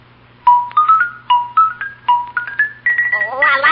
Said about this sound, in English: I couldn't wait to get home and get at the xylophone.